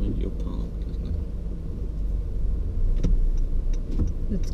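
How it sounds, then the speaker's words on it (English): Cars pass along the A489 road near Machynlleth and Cemmaes Road in Wales, a steady rumble swelling as vehicles go by, with people talking over it. "It's cars coming."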